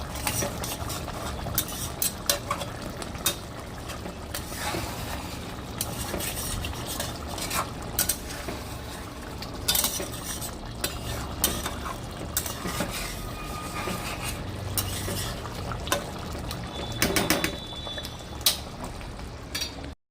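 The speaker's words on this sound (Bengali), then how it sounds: "হালকা হাতে নেড়ে নেবো মাছটা।" Parshe fish in a mustard-based curry with raw mustard oil, stirred gently in a pan, giving repeated soft scraping and clinking of a utensil against metal over a steady bubbling simmer, close and continuous with no talking.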